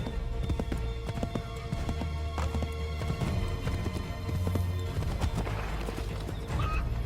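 A horse gallops in the Assassin's Creed 3 video game, with rapid, close clip-clopping hoofbeats over a steady game soundtrack and a brief whinny.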